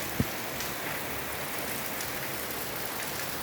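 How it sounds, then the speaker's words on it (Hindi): Rain falls in an outdoor setting as a steady, even hiss of drops, with one brief soft knock near the start. "बारिश"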